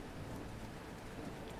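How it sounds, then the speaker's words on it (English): Steady rain hisses across a night level of the video game Robin Hood Sherwood Builders, with a low rumble of thunder running beneath it as continuous ambient weather. "It's a rainy night"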